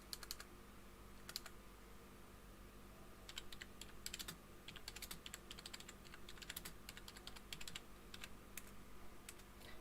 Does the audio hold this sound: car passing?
no